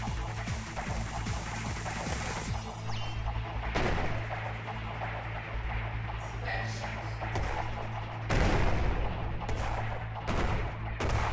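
Weapons fire rattles nonstop in the Nintendo Switch shoot'em up Space Blaze, a dense stream of rapid blaster shots layered over a steady game soundtrack, loud and unbroken throughout.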